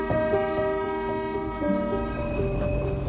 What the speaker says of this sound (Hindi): एक और हॉर्न है